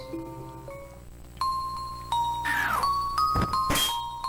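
In the Pokemon HeartGold video game, an incoming phone call ringtone plays as bright chiming ding-dong tones over the game's background music, followed by a couple of short rising effect sounds.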